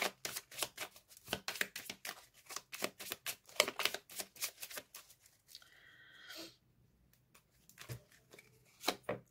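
Tarot cards shuffled and drawn by hand, a rapid run of crisp papery riffles and taps, a short pause near the end, then a few more card flicks.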